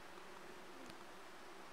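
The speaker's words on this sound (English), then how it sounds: "I hear bees again." Faint, steady buzzing of bees in the forest video game Among Trees, a low drone that is quiet and distant under a soft background hiss.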